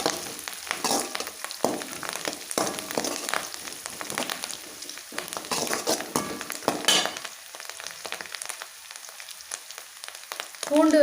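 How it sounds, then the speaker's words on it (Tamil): Dry red chillies and curry leaves fry in an oil-filled pan for a hotel-style duck curry, giving a continuous crackling sizzle with irregular louder spitting bursts and occasional stirring scrapes, moderately close and without talk. "கருவேப்பிலை போட்டு இப்படி நல்லா வணக்கி விடுங்க."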